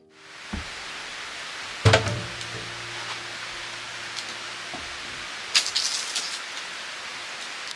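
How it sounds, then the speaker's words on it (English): Rain falling steadily outside a workshop under renovation into a house, a continuous soft hiss with a few scattered knocks and clatters nearby, no speech. "It's raining, but I have this little space in the front of the workshop"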